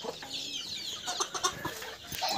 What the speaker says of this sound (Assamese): 48টা এটা মাকে 48টা পোৱালি লৈ আছে